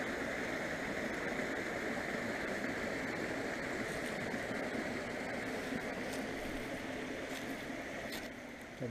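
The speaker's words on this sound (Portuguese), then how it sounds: "Aqui uma cascata, só que vê-se mal." A small waterfall along a walking trail pours in a continuous, dense rushing hiss, louder and fuller than a trickle, steady from start to finish with no voices.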